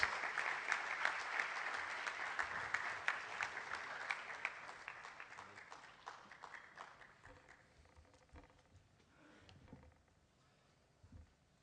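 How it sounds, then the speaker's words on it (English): An audience claps to welcome a speaker onto a stage, with dense applause that is steady at first and then gradually thins out and fades, leaving only scattered claps at the end. "Please put your hands together for a huge round of applause and let's welcome CA Amarjeet Chopra on stage."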